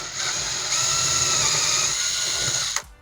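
A power drill with a 6mm bit bores into double-layer plasterboard, a loud, close, continuous high whine with a rough grinding edge that holds steady for about three seconds before cutting off abruptly.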